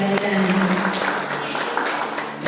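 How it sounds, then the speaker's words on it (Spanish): Audience applause at a school essay and speech contest, a steady wash of clapping from a crowd filling the room throughout, fairly loud and continuous with a slight easing toward the end. "Una vez más, fuerte los aplausos para"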